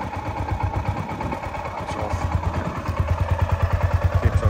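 A cold 1991 Honda GB500 TT single-cylinder motorcycle idling close by, with a steady, lumpy low thump and mechanical clatter that grows slightly firmer and more even toward the end.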